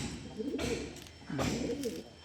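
Andhra Madrasi pigeons in a loft, giving two soft, low, throaty coos close by, each swelling and fading, with quiet background noise.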